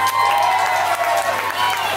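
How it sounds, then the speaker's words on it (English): A live concert audience applauds and cheers in a steady, dense wash of clapping and crowd noise that fills the whole stretch without a break. "A big round of applause for him."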